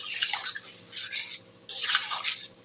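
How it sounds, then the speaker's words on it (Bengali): A little water is poured into a pan of potato and pointed gourd curry, giving a few short, bright splashing and sizzling bursts that come and go close by, with no talking. "এবার আমি এর মধ্যে একটু জল দিয়ে দিচ্ছি, অল্প একটু জল দিয়ে দিলাম"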